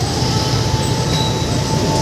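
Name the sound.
metro train passing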